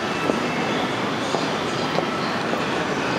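A streetcar at Nagasaki's main train station gives off a steady, fairly loud rail rumble with a few sharp wheel clicks scattered through it. No one speaks.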